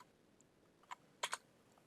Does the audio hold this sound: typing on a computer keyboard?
yes